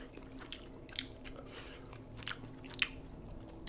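Faint chewing and biting while eating Shin Ramyun instant noodles, with a few soft crunchy bites scattered over a quiet, low room hum and no talking.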